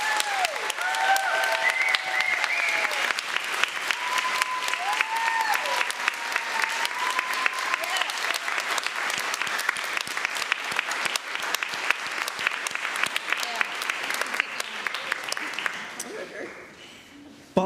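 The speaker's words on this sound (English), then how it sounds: "please applaud our new members as they take their seats" A church congregation at a worship service applauds new members as they take their seats. The clapping is sustained, dense and fairly loud, rolling on for a long stretch before fading out at the end.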